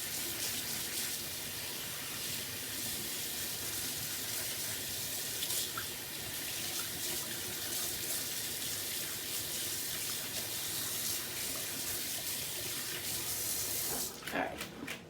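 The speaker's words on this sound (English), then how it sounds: "just gonna rinse off my hands real quick" Water runs steadily from a tap as hands are rinsed, a constant hissing splash at moderate distance, ending with a few brief clatters and splashes near the end.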